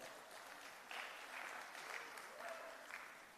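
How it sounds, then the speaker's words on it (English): Audience applause at a UNDP energy session, a quiet, distant patter of clapping that swells slightly and holds steady throughout, with faint voices murmuring underneath. "Please, a round of applause for Tawanda."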